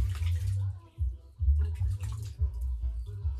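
Water sloshing and splashing in a baby's bath, with uneven low swishes and gentle pours rising and falling close by, and no talk over them.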